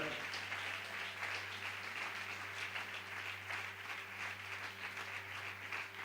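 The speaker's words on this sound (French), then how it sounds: "Est-ce qu'on peut acclamer pour le Seigneur?" A church congregation claps and cheers for the Lord, a dense, steady wash of applause filling the whole stretch at close range, with a low sustained hum underneath.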